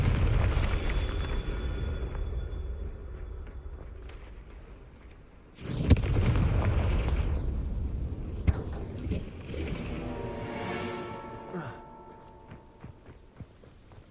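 Spell blasts from the Bombarda and Confringo curses in the Hogwarts Legacy video game, a rumbling wash that fades, then a sharp loud burst midway followed by crackling debris and a lingering roar.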